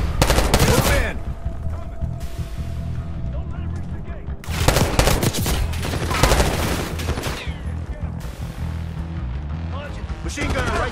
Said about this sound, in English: Machine gun on the right side